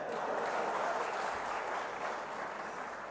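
Steady audience clapping at a Coimbatore professionals gathering, a dense even patter of many hands, fairly faint and continuous.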